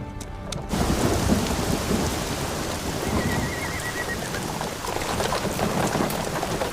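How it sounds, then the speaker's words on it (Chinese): Heavy rain pours steadily while deep thunder rolls through it, a dense, loud wash of falling water with a low rumbling undertone and no speech. "好像天色阴下来了，似乎要下雨了。"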